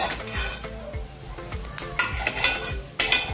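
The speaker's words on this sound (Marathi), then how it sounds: "इथे काजू पण खरपूस भाजून घेऊया" Cashews roast in ghee in a pan while a spatula stirs them in short, rhythmic scrapes about every half second, over a soft continuous sizzle and occasional light metallic clinks.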